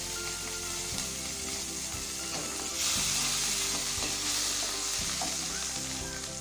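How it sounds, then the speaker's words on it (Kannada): About two teaspoons of butter sizzles steadily in a pan for pav bhaji tempering, a loud close crackling fry broken by several spoon scrapes and knocks against the pan, with no talking. "ಈಗ ಒಗ್ಗರಣೆ ಮಾಡ್ಕೊಳ್ಳೋಣ. 2 ಟೀ ಸ್ಪೂನಷ್ಟು ಬೆಣ್ಣೆನ ಹಾಕ್ತಾ ಇದ್ದೀನಿ."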